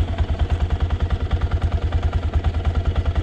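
A Yamaha SZR 660 motorcycle idles while warming up, its single-cylinder engine thumping in a steady, fast, even rhythm close by, loud and alone with no talk.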